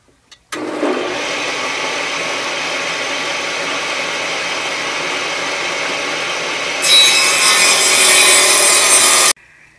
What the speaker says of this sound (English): I ripped the 3 pieces